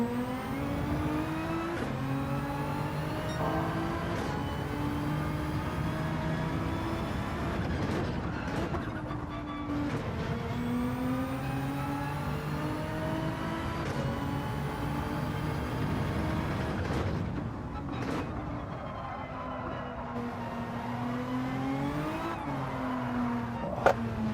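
A Nissan GT-R engine wails continuously in a video game race, rising and falling through gear changes and throttle lifts, loud and steady throughout, with no voices.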